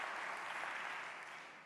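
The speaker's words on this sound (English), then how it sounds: "can we give her a round of applause?" A crowd applauds at a 9/11 Day of Service and Remembrance event, a broad, even rush of clapping that holds steady, then thins slightly toward the end, heard from a distance and fairly quiet, with no voices over it.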